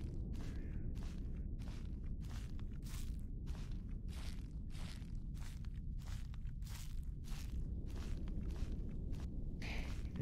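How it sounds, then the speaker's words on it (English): Loud stomping footsteps in a video game fall as a regular run of heavy, evenly spaced thuds, one every half second or so, over a constant low background rumble. "It's like loud stomping."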